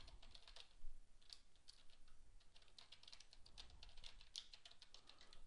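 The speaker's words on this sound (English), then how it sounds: "Type in my password" Typing on a computer keyboard to enter a password, a steady run of close, quiet key clicks with slight irregular rhythm and one firmer press near the start.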